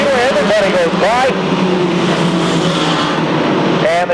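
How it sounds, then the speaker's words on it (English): Race trucks roar past on the Seekonk Speedway oval, a loud, continuous engine drone with a rising whine as they go by, under excited race commentary. "As Ray Celia pulls up off the track, high on the speedway, everybody goes by"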